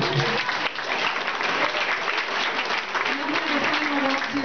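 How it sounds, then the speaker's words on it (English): A crowd at a German Family Society youth group event claps for the outgoing king and queen, steady, dense applause that holds throughout, with a voice briefly heard over it. "We'll give them a nice round of applause."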